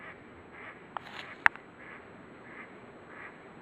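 A duck quacks a few times at a distance, sharp single calls over a quiet outdoor background.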